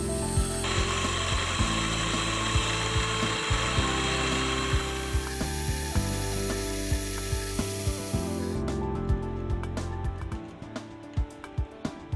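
A loud, steady mechanical whir runs with repeated clicking, then stops, leaving a series of sharp, irregular ratchet clicks close by from a handmade clock's barrel click and click spring.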